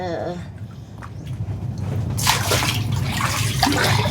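Feet slosh and splash through flood water in a residential area, with a steady wet churning that grows louder partway through, while people talk nearby.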